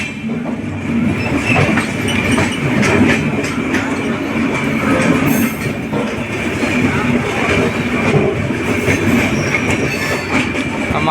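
The Udhna to Jaynagar special train runs on the rails, heard from on board as a continuous rumble with rhythmic clickety-clack and occasional squealing wheels. The sound stays fairly loud throughout with no voices.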